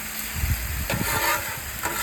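Chicken stir fry sizzles on a Blackstone griddle, a steady broad hiss with faint scraping, close and continuous throughout.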